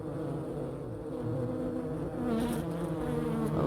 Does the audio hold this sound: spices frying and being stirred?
no